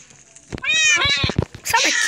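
A cat meows indoors in a bathroom, a couple of clear, close, drawn-out cries with rising and falling pitch, followed by a brief harsher sound.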